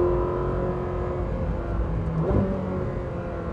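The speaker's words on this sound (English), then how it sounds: "Those shifts are quite harsh in race mode" Ferrari 458 Speciale V8 running in race mode, a steady loud engine drone from inside the car with a brief jolt midway as a harsh gear shift cuts through.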